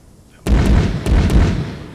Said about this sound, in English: the first volley is usually pretty much all at the same time